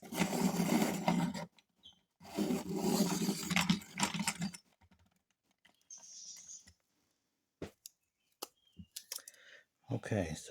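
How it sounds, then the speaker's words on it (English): A hand-crank pencil sharpener grinds a Musgrave pencil whose shaft is wrapped in a post-it note, giving two long, loud rasping bursts followed by scattered small clicks and handling noises. "I'm going to make that a little better by using a crank sharpener here"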